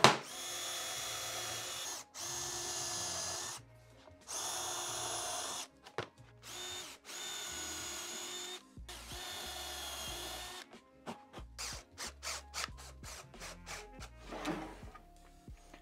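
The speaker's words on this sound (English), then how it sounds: "So I'm using this little Rockler jigget guide to drill my pilot holes." A power drill whirs in several short bursts with brief pauses between them, boring pilot holes in furniture through a Rockler jig guide, followed by quieter clicks and handling noises up close.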